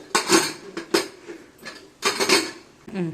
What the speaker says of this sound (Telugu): మళ్ళీ మూత పెడుతున్నాను, జస్ట్ ఒక 2 మినిట్స్ చాలు.